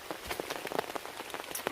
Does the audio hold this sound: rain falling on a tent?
yes